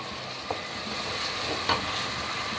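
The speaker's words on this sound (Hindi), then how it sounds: "अच्छी तरीके से इसके मसाले को भून लेंगे" Masala for aloo gosht fries in ghee with a steady dense sizzle, close and fairly loud, broken by a couple of brief stirring knocks, with no talk.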